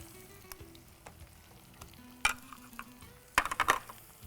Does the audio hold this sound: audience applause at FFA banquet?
no